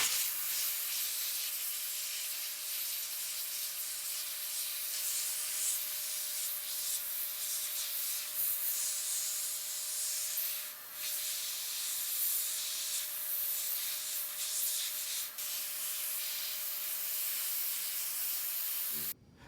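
A DataVac electric duster blasts air over wet small electronic parts from a Heathkit stereo preamp kit, a loud, steady, close rushing hiss lasting throughout, with only slight wavering before it cuts off abruptly at the end.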